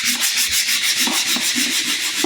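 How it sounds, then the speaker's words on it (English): Steady back-and-forth hand sanding on a scratched hardwood floor, close and continuous, with a rhythmic rasping stroke repeating several times a second. "the hand sand, little hand scrape, little hand sand, that'll get rid of all the little scratches."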